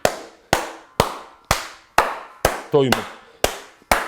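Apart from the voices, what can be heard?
hand clapping to clear energy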